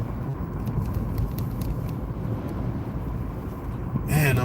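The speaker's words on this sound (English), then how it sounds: "you could hear the gusts of wind going past the car" Gusts of wind rush past a car being driven down a street on a stormy morning: a steady, loud low roar with road rumble throughout, and a brief voice at the very end.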